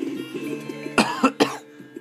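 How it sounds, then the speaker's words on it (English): Two sharp coughs in quick succession from a person close by, cutting over a quiet video-game music background. "I've been coughing a lot"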